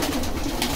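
Pigeons at a pigeon market in Bogura, several birds cooing close and continuously in a dense, overlapping murmur.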